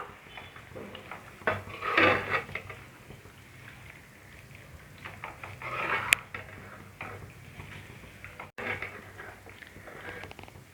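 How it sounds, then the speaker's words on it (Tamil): Chicken pieces coated in masala are stirred in a pot for a restaurant-style chicken handi: close, wet scraping and patter, with soft clinks of a spoon against the metal and a few louder stirring surges. "சிக்கன் ஃபுல்லாக மசாலா படுற மாதிரி கிளறி விட்டுப்போம்"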